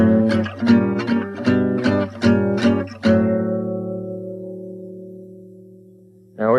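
A gypsy jazz manouche guitar progression played in tempo, several quick rhythmic strummed chords, then a final chord left to ring out and fade before a new strum at the end.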